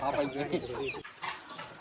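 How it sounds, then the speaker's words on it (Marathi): Chickens clucking close by at a farmhouse in Tala, Raigad, Konkan, a few soft cackles blending with background noise, then quieter ambience. "बघा केवढ्या कोंबड्या"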